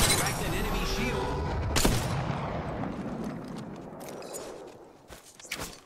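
Gunfire in an Apex Legends match, a dense run of weapon shots with a sharp crack near the two-second mark and scattered bursts toward the end, layered over game sounds and voice callouts.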